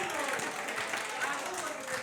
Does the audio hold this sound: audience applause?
yes